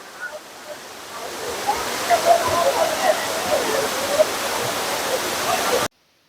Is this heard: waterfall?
yes